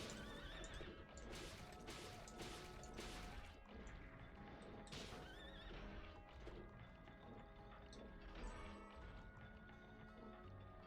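Repeated loud whinnies and neighs from a water horse enemy in Bloodstained: Ritual of the Night ring out over clip-clopping hooves, crashing impacts and game music.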